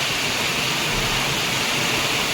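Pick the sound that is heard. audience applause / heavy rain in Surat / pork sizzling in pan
heavy rain in Surat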